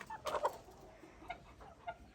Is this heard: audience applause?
no